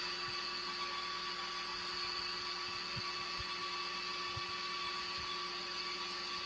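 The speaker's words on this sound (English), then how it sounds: "Right, get some sanding done." A wooden crochet hook is sanded while it spins on a wood lathe, giving a steady, continuous motor whine and hum with a constant pitch for the whole stretch, with no talking.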